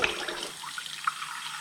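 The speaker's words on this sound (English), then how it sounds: "now I just add some water" A brief splash of water being poured for baking bread, soft hissing trickle with a few small drips, close and fairly quiet.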